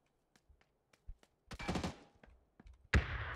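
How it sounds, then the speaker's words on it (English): Gunshots ring out in a PUBG match on the Miramar map, with scattered sharp cracks and a burst of rapid fire, then a loud close report near the end. "I'm getting shot at through smoke."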